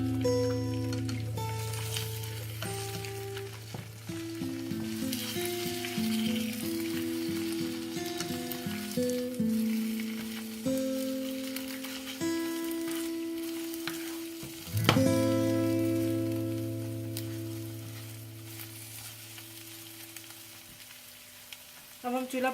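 Eggs fry in a pan for Peshawari chapli kebab, a continuous soft sizzle and hiss that sits under prominent background music. No speech is heard.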